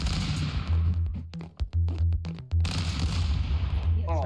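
Rapid bursts of gunfire from the Stick Fight video game, a cluster of sharp shots in a row, set among loud, busy game sounds with no talking.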